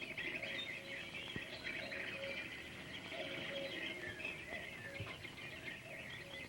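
Birds chirp as a sound effect in a 1951 horror radio drama, a steady chorus of high tweets that runs unbroken throughout, moderately loud over faint background hiss.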